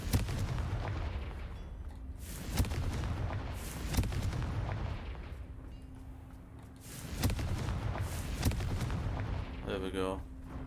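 In Hogwarts Legacy, Confringo spells blast apart a camp, a series of heavy booming explosions landing at irregular intervals over a rumbling background, with a rippling magical crackle near the end.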